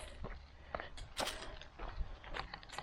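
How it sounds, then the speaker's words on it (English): Footsteps crunch through dry fallen leaves on an outdoor trail at a steady walking rhythm, each step a short crisp rustle close to the microphone. "you can hear the crunching of the leaves on the trail"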